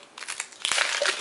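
Packaging of an Iron Man Avengers pencil set being opened. It gives off a close, crisp crinkle and crunch of plastic and paper in short bursts that grow denser after a brief pause, with no talking.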